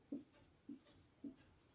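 Chalk writing on a classroom board, three faint, evenly spaced taps or strokes in a quiet room.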